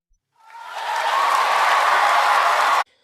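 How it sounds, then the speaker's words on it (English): Free stock sample of applause: a crowd's clapping swells in over half a second, holds as a dense, steady wash of many hands for about two seconds, then cuts off abruptly. "a free to use audio sample of applause"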